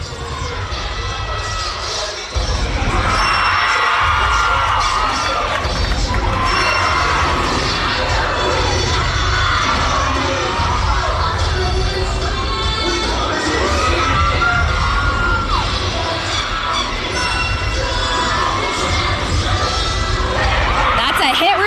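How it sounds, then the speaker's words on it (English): A cheerleading championship arena full of noise: a dense, continuous roar of shouting and cheering from athletes and crowd, loud and sustained throughout, with voices talking over it. "You see the athletes cheering each other on as they're getting ready for their final skills"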